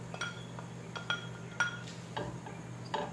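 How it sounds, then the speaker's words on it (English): A utensil clinks and taps against a pot as cooked conch is mixed into a seasoned filling for Virgin Islands conch patties, scattered light metallic knocks over a faint hum, close and without speech. "just mix it in with the flavors"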